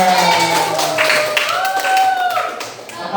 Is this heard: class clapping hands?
yes